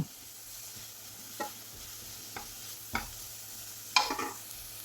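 Chilli flakes and coriander powder being stirred in a frying pan for a potato roast, faint background sizzle with a few soft scraping strokes of the spoon spaced out, the last one louder.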